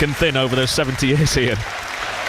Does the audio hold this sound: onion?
no